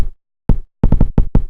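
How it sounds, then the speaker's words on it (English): Low, distorted kick drum samples hitting hard and close: one single thump, a pause, then a quick run of five booming kicks in a steady pattern, loud and alone. "I made a couple of low and distorted kick sounds"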